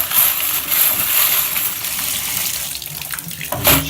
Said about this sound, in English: You'll just run some water over it.